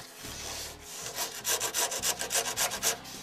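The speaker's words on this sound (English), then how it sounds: "I'm going to smooth it up just so the fiberglass doesn't snag on it." Hand sanding the bottom of a foam surfboard blank before fiberglassing, heard as close, rhythmic back-and-forth rubbing strokes that speed into a steady scrubbing pattern.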